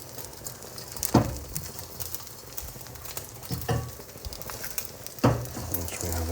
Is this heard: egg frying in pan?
yes